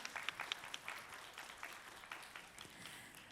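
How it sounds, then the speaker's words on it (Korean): A crowd of fans applauds steadily for a few seconds at an event in Busan, a dense patter of clapping heard at moderate distance. "여러분 크게 박수 부탁드리겠습니다."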